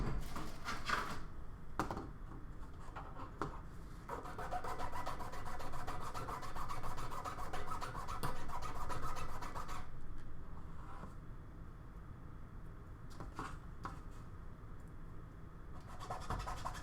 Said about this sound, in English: So, I'm going to quickly sand that.